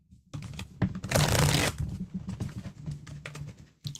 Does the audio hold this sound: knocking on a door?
no